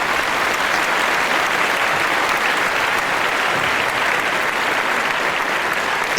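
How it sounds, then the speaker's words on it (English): A large crowd claps and cheers in a steady, continuous roar of applause that holds at an even level throughout, with no speech over it. "Everyone clapped and cheered as he escorted his new wife to the ship and they boarded."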